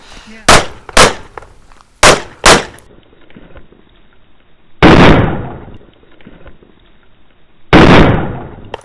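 Handgun shots fired at wooden targets during an outdoor winter shooting drill: a fast string of four sharp, close cracks, then two louder, ringing shots spaced a few seconds apart, with no talk.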